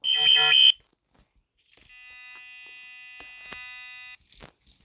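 A Nokia mobile phone ringtone plays as a steady electronic tone for about two and a half seconds, preceded by a short loud burst and followed by faint clicks, with no talking.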